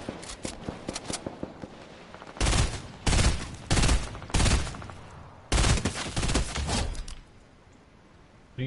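Video game gunfire in bursts of rapid automatic shots, loud and close, broken by short pauses and trailing off into quieter background near the end.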